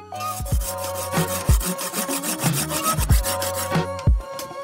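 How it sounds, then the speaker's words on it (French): A hand saw cuts through a prepared wooden peg fitted into a joint of a sawhorse built without nails or screws, giving steady, rhythmic back-and-forth rasping strokes, close and fairly loud, with no voices. "Je viens scier."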